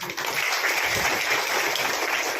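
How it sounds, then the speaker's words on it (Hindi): Applause from an audience at a village development seminar in a gram panchayat hall, sustained steady clapping filling the whole stretch with no break. "जोरदार ताली"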